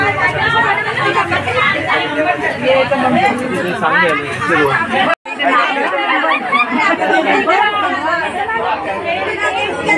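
Dense crowd chatter fills a packed Bank of India branch as people queue for a welfare scheme payout, loud and continuous with overlapping voices and one brief dropout midway.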